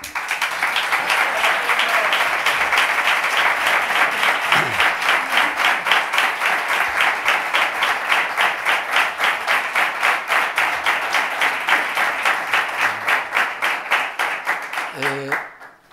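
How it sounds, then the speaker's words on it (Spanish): Strong, rhythmic audience applause at a flamenco heritage event, the claps falling into a steady unison beat and carrying on loudly before trailing off at the end, with a brief voice near the close. "un fuerte aplauso para ellos también"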